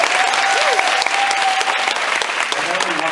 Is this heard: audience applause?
yes